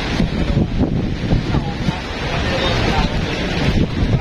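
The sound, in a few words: strong wind near the sea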